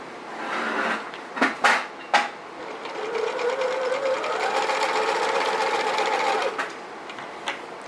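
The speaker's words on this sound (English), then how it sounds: "We're back at the sewing machine." A sewing machine stitching curtain fabric runs steadily, its needle whirring for several seconds, after a few sharp clunks and knocks at the start.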